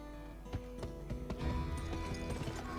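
Horse hooves clop at a steady walking rhythm in the Western video game GUN, faint and close over a low ambient game hum, with no voices.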